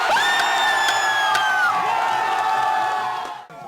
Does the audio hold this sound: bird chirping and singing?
no